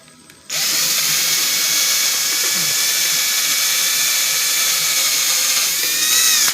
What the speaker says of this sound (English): but we'll drill a hole.